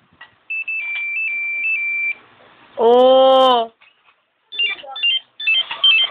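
A cellphone ringtone plays close by: a stepped high electronic melody, then a loud harmonic buzzing burst, followed by choppy bleeping tones, with a brief voice exclamation.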